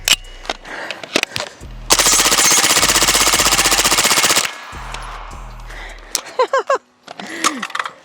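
Suppressed Springfield Kuna firing a long rapid burst, loud and close, preceded and followed by single sharp shots and metallic clicks of handling, with brief talk in between.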